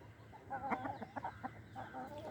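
A laying hen clucks in short, soft bursts, fairly quiet and close, with faint background hum and no talk.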